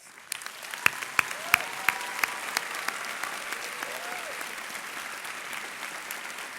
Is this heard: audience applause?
yes